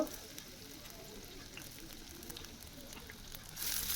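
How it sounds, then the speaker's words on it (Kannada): Onions fry in oil with cinnamon, clove and marathi moggu for butter chicken. A soft, steady sizzle and crackle stays close and even, then swells a little louder near the end. "ಚೆನ್ನಾಗಿ ಒಂದು ಸ್ವಲ್ಪ ಫ್ರೈ ಮಾಡ್ಕೋಬೇಕು"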